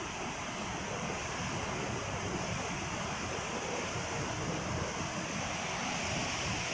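The Saraswati river rushes near Bhim Pul at Mana village in Uttarakhand. The water makes a loud, steady, unbroken roar of torrent noise with no pauses.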